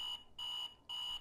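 An alarm clock in the video game Buffalo Dreams rings in three steady, shrill electronic beeps with short gaps between them, fairly quiet and alone.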